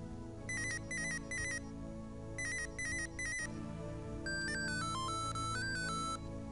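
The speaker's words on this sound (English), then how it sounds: "The phone is ringing." A telephone rings in the video game Mother 3 as a chiptune-style electronic trill in repeated bursts, followed by a rising and falling melodic jingle, all over a steady game music background.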